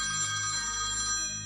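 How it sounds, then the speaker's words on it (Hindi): A mobile phone rings with a steady electronic ringtone of sustained bright tones, continuous and moderately loud throughout, with no voices. "आर्यन का फोन बजता है।"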